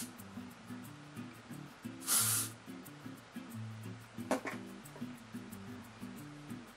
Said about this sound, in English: if you have side bangs like this is the time to spray them in place as well